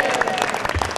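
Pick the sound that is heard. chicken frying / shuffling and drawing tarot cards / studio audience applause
studio audience applause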